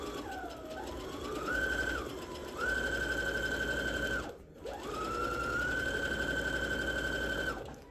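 A sewing machine stitches a quilt at an increased stitch length of 4, humming steadily with rising and falling motor whine, pausing briefly midway before running again, close and clear with no talking.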